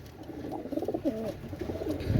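Pakistani blue-tailed pigeons, a breeding pair, give soft low coos that repeat under steady background noise, close by and moderately loud.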